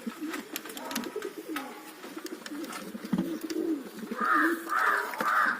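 Pigeons in a loft: a few soft, low cooing calls, near and fairly faint, repeating in short bursts, with light background noise and no talking.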